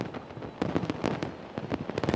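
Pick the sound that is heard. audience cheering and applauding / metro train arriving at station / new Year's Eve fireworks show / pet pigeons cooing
new Year's Eve fireworks show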